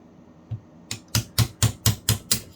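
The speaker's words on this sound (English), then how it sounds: "you need a hammer and punch to do this part of the job if it's tight" A hammer striking a punch to knock loose a part of a Sturmey Archer S5 5-speed internal gear hub, about eight sharp metallic taps in a quick steady rhythm, close and loud.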